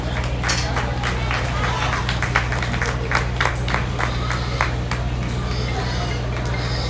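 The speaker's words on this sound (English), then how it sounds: "Give him a round of applause." A crowd claps at a market swine show held at a livestock show ring, a steady dense patter of applause that fills the whole stretch over a persistent low hum, with no clear talk.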